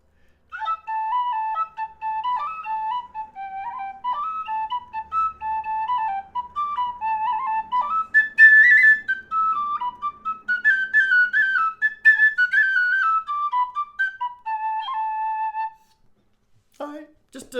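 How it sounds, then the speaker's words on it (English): Shush Classic and Shush Pro high D tin whistles take turns on a quick polka, bright reedy notes in a lively bouncing rhythm with ornamented runs, played close and clear for about fifteen seconds before ending. "just a little quick run through of part of that polka for us"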